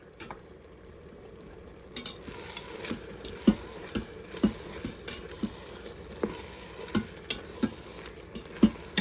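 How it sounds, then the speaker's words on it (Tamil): Tomatoes sauté with chilli and turmeric powder in a pot, a constant sizzle broken by regular, distinct spoon scrapes and taps roughly every half second to a second, close and fairly loud, with no voices. "தக்காளி வதங்கி கொண்டிருக்குது இப்போ மிளகாத்தூள் மஞ்சள் தூள் போட்டுக்கொள்கிறேன்"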